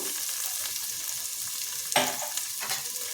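Ginger garlic paste frying in a pan, a steady close sizzle with a sharp scraping stir near two seconds and softer stirring after.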